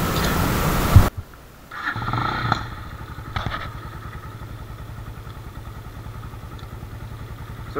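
A Braaap Mercury cafe racer motorcycle with a carburetor starts after a loud clunk and settles into a steady, close idle that pulses rhythmically while it warms up, with a few revs early on.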